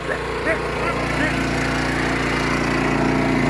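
A portable generator engine runs steadily at close range, its droning hum holding constant throughout with no pauses, while faint background sounds blend in underneath.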